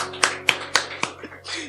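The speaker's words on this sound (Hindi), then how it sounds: "मैं चाहता हूं बदर के लिए तालियां बजाए मेरे को।" Hands clap together among a church congregation at a Hindi sermon, four sharp claps spaced about a quarter second apart, then a soft murmur of voices trailing off.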